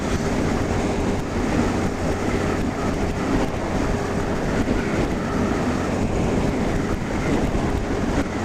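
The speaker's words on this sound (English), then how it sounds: "I think it's like 45-mile-an-hour winds today" Strong gusty wind of around 45 mph buffets the microphone around a barn, a continuous loud roar with surging gusts and no voices.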